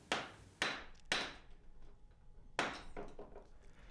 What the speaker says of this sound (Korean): 불에 달구고 두드리고 얇게 펴서 늘리는 작업을 수없이 반복하다 보면 원하는 모양에 가까워집니다.